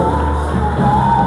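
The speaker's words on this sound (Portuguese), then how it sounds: "Aplauda o Senhor." A church congregation cheers and shouts in praise, a dense, loud crowd sound with whoops that swells slightly toward the end.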